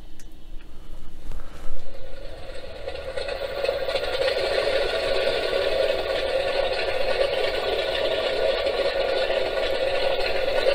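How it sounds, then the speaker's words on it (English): A sound module in a Mitsubishi Zero fighter model kit plays an engine start, a sputtering crank that settles into a steady droning idle with faint rattle, small and tinny. "We'll have the engine start."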